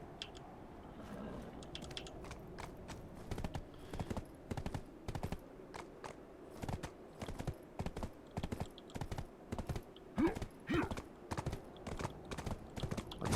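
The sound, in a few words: horse hooves galloping in video game Black Desert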